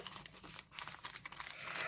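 Dry paper crinkling and rustling as small winter-themed paper surprise packets are handled and opened, a close, continuous scratchy crackle with a few brief tearing bursts.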